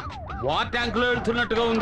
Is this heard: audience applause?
no